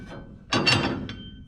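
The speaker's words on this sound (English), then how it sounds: "So I'm going to pull off my chippers." Metallic clinks and a short scrape as dado chipper blades come off a table saw arbor, one brief cluster of close contact sounds.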